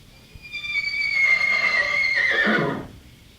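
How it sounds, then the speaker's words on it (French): A horse whinnies loudly and alone, a sustained shrill call that rises, wavers and then drops into a rough snorting finish over about two and a half seconds. "C'est alors que son cheval se mit à hennir."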